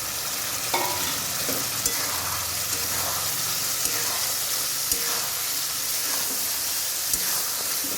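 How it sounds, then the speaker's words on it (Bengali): Boiled soybean chunks stirred into a pan of frying spice masala for a soy and egg biryani, with steady sizzling, scraping spoon strokes and a few sharp clicks throughout. "মশলাটা কষানো হয়ে গেছে এখন সয়াবিনগুলো দিয়ে দেবো সয়াবিনটা আগে থেকে সেদ্ধ করে রেখেছি"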